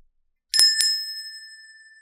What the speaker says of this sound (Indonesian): suara lonceng yang terekam di kameranya Java Bros